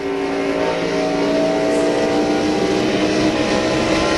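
Onboard engine of Rusty Wallace's stock car at the 1999 TranSouth 400, a loud, steady high-pitched roar at sustained speed, close and continuous with no voices over it.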